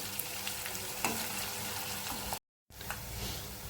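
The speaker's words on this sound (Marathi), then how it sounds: "कांदा लालसर होऊ द्यायचा आहे तोपर्यंत आपण परतवणार आहोत त्याला" Onion fries in oil with a continuous close crackling sizzle and occasional stirring scrapes. The sound cuts out briefly for a moment, then resumes.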